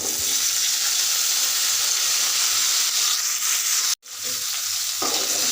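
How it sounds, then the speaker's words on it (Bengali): Potatoes fry in onions in a hot pan with a loud, steady, close sizzle, broken by a brief sharp dip as they are stirred. "পেঁয়াজের মধ্যে আমি আলুটাকে একটু হালকা করে ভেজে নেব"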